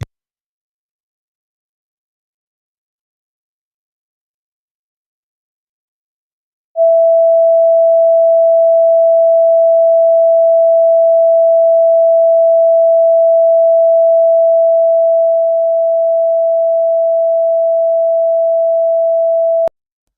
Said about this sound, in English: So basically, it's a pure tone at whatever frequency that is.